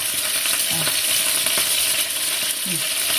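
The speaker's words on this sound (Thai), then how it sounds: "อันนี้กำลังทอดไอ้เนื้อนะคะเพื่อน" Beef frying in hot oil crackles in a loud, dense, continuous sizzle, with a couple of faint tonal chirps in the background and no talking.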